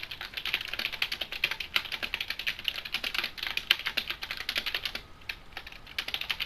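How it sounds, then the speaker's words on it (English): Fast, forceful typing on a computer keyboard: dense, rapid key clicks in uneven bursts, close and fairly loud, with no voices. "what is with the intense typing?"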